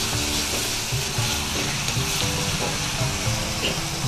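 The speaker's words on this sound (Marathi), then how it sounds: "कांद्यामधलं पूर्ण पाणी निघून जाईपर्यंत तेलावर परतून घ्यायचं." Ground onion paste with garlic and ginger sautés in oil in a continuous, loud, close sizzle with faint stirring scrapes woven through, and no voices.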